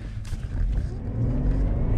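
A convertible Honda Civic engine revs hard while mudding and drifting, a loud, close, continuous roar that surges and swells, with faint splashes and rattles and no speech.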